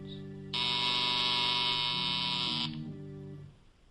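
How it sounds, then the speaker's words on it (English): A loud, flat electric buzzer sounds in an old radio drama scene, holding for about two seconds before cutting off over a low humming tone that fades out. "K-12 watches those lights intently some moments before a buzzer sounds."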